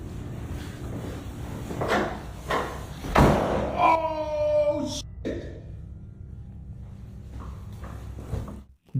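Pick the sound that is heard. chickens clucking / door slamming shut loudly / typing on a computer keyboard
door slamming shut loudly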